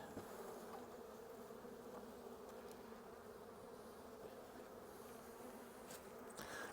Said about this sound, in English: This hive has a lot of bees.